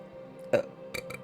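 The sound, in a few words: burp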